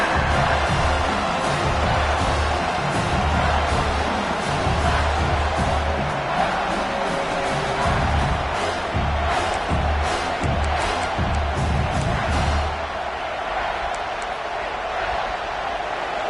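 Stadium crowd noise in a college football video game, South Carolina versus Georgia, a loud continuous roar of cheering that swells in pulses and drops off near the end.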